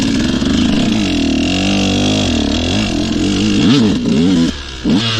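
A KTM 150 two-stroke dirt bike accelerating in first gear, its engine loud and near, revving up in a rising whine, easing off, then snapping up again in quick bursts.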